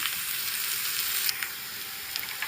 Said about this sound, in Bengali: এবার দেখুন পেঁয়াজটা ভালোভাবে ভাজা হয়ে গেছে।